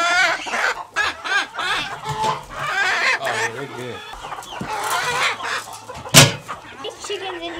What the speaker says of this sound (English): These chickens in here are really loud.